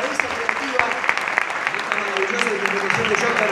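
An audience at an awards ceremony applauds, with distinct claps standing out from a steady crowd wash. A host's voice talks over the clapping throughout.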